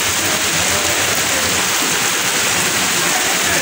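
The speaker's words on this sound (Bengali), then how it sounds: "দেখো কেমন জোরে বৃষ্টি হচ্ছে, খালি বৃষ্টিটা এত জোরে বেড়ে গেল, পুরো আমাদের মুষল ধারায় হচ্ছে।" A heavy monsoon downpour, a loud, dense, unbroken roar of rain pounding surfaces close by, filling the whole clip with no breaks.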